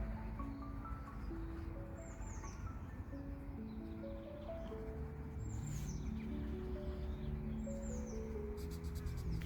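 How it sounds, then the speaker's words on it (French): Birdsong outdoors in the Brittany countryside, with a few high chirps and calls repeating faintly over a steady broadband background hiss, fairly distant and without voices. "Je vous fais profiter du bruit des oiseaux."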